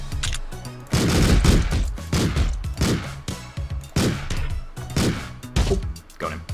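Rapid pistol gunshots from the top-down action game Streets of Rogue, a loud run of sharp cracks and thuds in quick bursts that fills the whole stretch with little pause.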